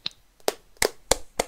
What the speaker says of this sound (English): Everyone give a clap.